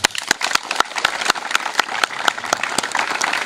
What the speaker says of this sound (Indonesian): kita beri tepuk tangan untuk ini